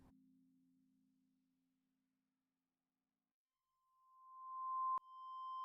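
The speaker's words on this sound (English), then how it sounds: "So you can hear we introduce new sort of melodic tones" Synthesizer feedback tones: a low synthesized tone fades out, then after a pause a pure higher melodic tone swells in, briefly cuts, and returns with faint overtones.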